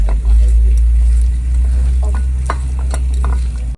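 Chicken feet are worked by hand with chili powder and rock salt, giving soft wet squelching and scraping over a loud, constant low rumble, with faint voices in the background.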